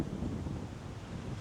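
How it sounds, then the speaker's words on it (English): Outdoor wind batters the microphone with a steady, loud, low rumble that carries on for the whole moment, with no voice. "it's a bit windy today"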